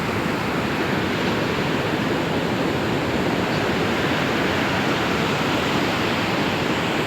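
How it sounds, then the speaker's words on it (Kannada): Sea waves wash ashore on a beach heaped with plastic litter, a steady, loud, unbroken rush of surf that fills the whole stretch with no voices. "ಇಷ್ಟೊಂದು ನೀರೆಲ್ಲ ಬರ್ತಾ ಇದೆ"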